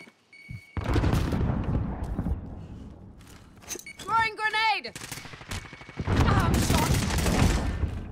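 Bursts of automatic gunfire and scattered shots in Call of Duty Warzone, loud and dense through much of the clip, broken by a short electronic chirping sound in the middle.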